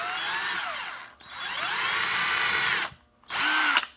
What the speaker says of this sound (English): And then I'm gonna drill a hole inside of it.